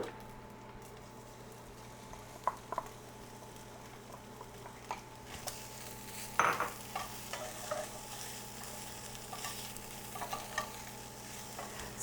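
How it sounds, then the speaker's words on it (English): Turnip greens sauté in a pan on the stove with a faint, steady sizzle, punctuated by soft scattered clicks and scrapes of stirring that grow slightly busier later on. "go back to the stove with it and saute off our greens"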